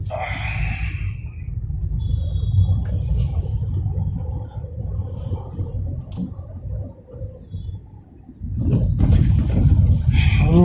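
Steady low engine rumble and road noise inside a 2019 Tata Tiago XZ+ while driving, dipping briefly before swelling louder again, with no voices.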